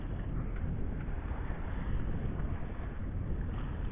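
A sailboat motoring under engine with sails up near the Egadi Islands off Sicily, a steady low rumble of motor and rushing water and wind, continuous and even, with no speech.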